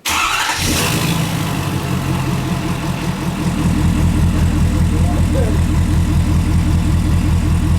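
A 2016 Ford F-350 with the 6.7 Powerstroke diesel cranks briefly and fires up, then settles into a loud, steady, rumbling idle that holds close by for several seconds.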